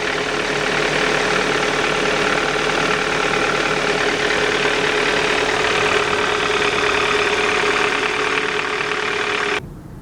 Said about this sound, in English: the direct injected gasoline engine, I think it's called a GDI engine, is extremely noisy